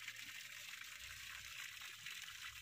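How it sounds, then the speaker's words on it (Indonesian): Water drains out of a fish pond filter barrel, a soft continuous trickling and gushing flow heard steadily at low level, with no talking. "kita membuang airnya"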